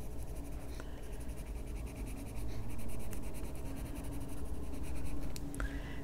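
Colored pencil scratching steadily across paper while filling in the highlighted area of an adult coloring page of a dawn flower and bubbles, a close, continuous soft rasp with faint strokes and no talking.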